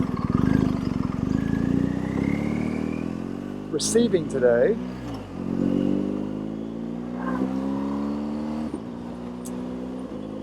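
FedEx delivery truck driving past a motorcyclist, its engine rumbling and shifting while someone speaks over it and a clatter cuts in midway.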